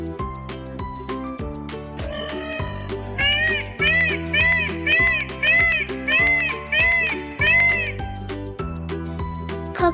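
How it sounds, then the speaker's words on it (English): A peacock calls with a string of loud, wailing, cat-like cries that repeat in a regular rhythm over a bright backing music track. "peacock,"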